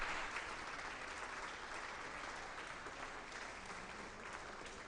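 Quiet, steady applause from spectators at a singles championship final, a continuous wash of many hands clapping, heard at a distance with no pause or voices.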